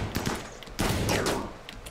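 Rapid gunfire from a squad firing in a RimWorld battle, with a dense burst starting partway through and fading out, loud and close and with no talk.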